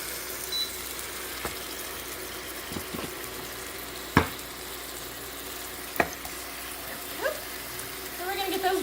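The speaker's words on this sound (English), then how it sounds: "we're going to be browning our ribs all over" Short ribs browning in hot olive oil for slow cooker balsamic short ribs, giving a steady low sizzle throughout with occasional sharp clinks and stirring knocks, and faint background voices.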